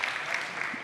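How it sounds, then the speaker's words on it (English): Brief burst of audience applause at a Google Cloud Next conference session in Munich, a dense steady patter of many hands, fairly close and full, lasting under a second. "You can applaud."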